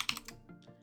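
Quick, light keystrokes on a computer keyboard while a Linux server command is entered: a brief run of close, crisp taps at an uneven rhythm.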